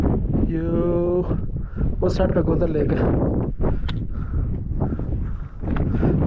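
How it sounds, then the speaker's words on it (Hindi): Cold wind outdoors in a remote hiking area in Pakistan rumbles and buffets against the microphone, a continuous low roar running beneath someone talking throughout. "ठंडी हवा चलना शुरू हो"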